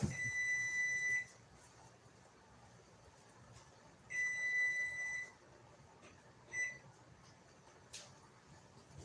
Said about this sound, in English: Let me cut this oven off, or it's going to keep beeping.